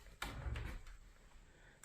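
Old wooden cupboard doors in a historic farmhouse creak and knock as they are opened, a few close clunks and soft rattles in a quiet room.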